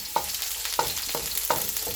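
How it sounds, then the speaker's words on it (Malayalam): Small chopped onions sauté in oil with mustard seeds, a soft continuous sizzle broken by three evenly spaced scrapes of a spatula stirring the pan. "ഇനി അത് നമുക്ക് നന്നായിട്ടൊന്ന് മൂപ്പിച്ചെടുക്കാം."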